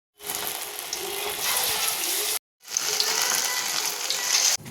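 Vadas made from leftover rice fry in hot oil, a loud, dense bubbling sizzle heard in two stretches separated by a brief break of silence.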